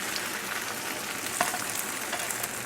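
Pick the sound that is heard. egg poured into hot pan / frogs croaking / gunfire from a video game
egg poured into hot pan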